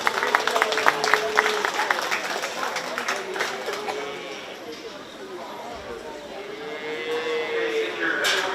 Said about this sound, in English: Give them a great big round of applause as they head back.